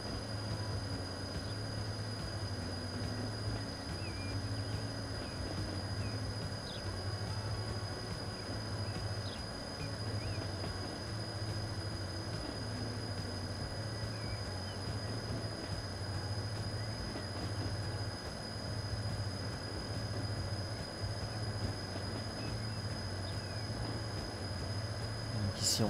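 Grain trains running in the game Transport Fever 2, a faint, continuous low rumble of rolling rail cars with a steady hum throughout.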